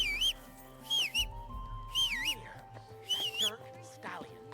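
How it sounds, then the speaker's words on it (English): A character in Kingdom Come: Deliverance II whistles a warbling tune in short, bright phrases with pauses between them, close and clear over quiet low background sounds. "What are you whistling for?"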